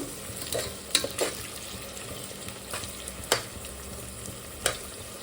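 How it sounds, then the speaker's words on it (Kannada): Onions frying in a pan, a soft steady sizzle broken by several sharp scrapes and clinks as a spoon stirs them, close and fairly quiet, with no talking. "ಸೊ ಈರುಳ್ಳಿ ಚೆನ್ನಾಗಿ ಕೆಂಪಗಾಗಬೇಕು, ಅಂದರೆ ಚೆನ್ನಾಗಿ ಬೇಯಬೇಕು ಈರುಳ್ಳಿ."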